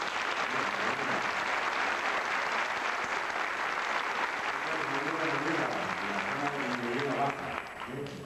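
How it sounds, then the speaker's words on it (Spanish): Theatre audience applauding a performer at the Teatro Campoamor in Oviedo, loud sustained clapping throughout that thins toward the end as a voice begins speaking over it. "La gente te lo va a demostrar con ese gran aplauso"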